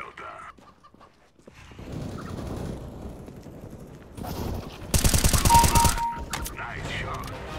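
Rapid automatic gunfire from Counter-Strike: Global Offensive bursts out loud and dense for about a second near the end, preceded by quieter in-game action and scattered shots.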